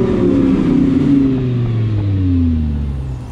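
A 2012 Audi R8 GT Spyder V10 accelerating hard, its loud engine note climbing and then sweeping downward, heard up close and steady with no talk throughout.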